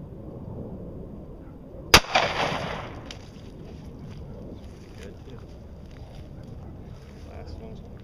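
A single sharp gunshot of a 45 ACP hollow point fired at milk jugs outdoors cracks loudly, followed by a short splashy burst, then quiet wind noise.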